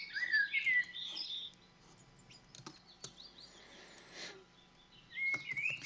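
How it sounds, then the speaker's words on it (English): Small birds chirp and tweet in short bright bursts, soft and somewhat distant, with quiet gaps and faint clicks between the calls. "Thanks, they are very sexy bird sounds."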